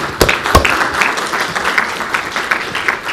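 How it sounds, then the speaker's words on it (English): Conference audience at a stem cell meeting breaks into loud, dense applause, a couple of sharp individual claps standing out at the start before settling into steady continuous clapping. "So if we could give a round of applause for Life Technologies"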